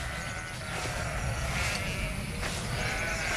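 Sheep bleating in an open meadow pasture, a flock heard continuously at moderate distance with overlapping calls and steady outdoor ambience throughout.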